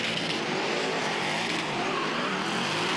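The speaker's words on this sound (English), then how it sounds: "Listen to those turbos roar, those superchargers on his door." A high-horsepower race car with turbos and superchargers roars through a corner in a steady, loud, dense wash of engine noise and tire sound heard from trackside, with no pauses.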